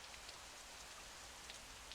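Rain falls steadily, a faint, even hiss of drops on a surface with occasional sharper patters and no voices.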